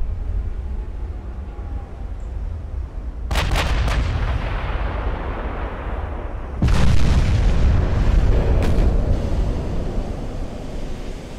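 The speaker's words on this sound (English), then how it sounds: "Oh yeah, there's an ammo detonation." Ship ammunition detonations in the naval combat game Ultimate Admiral: Dreadnoughts erupt as two heavy booming blasts several seconds apart, each with crackling follow-up bursts over a constant low rumbling battle roar, loud and close.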